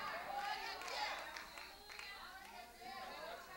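Church congregation clapping and cheering together in a sustained burst of applause for Jesus during a sermon, with scattered voices and whoops mixed into the crowd noise.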